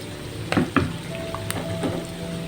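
Chicken liver and gizzard karahi frying in a pan, a steady low sizzle with a few sharp clinks and scrapes of stirring near the start, no one talking.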